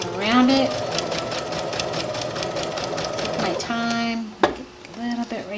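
A sewing machine runs steadily while stitching a skirt, a fast even rattle that slows and stops briefly near the end before starting again, with a few clicks and knocks.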